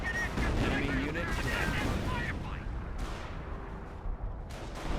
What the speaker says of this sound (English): Two good sniper shots from the other player.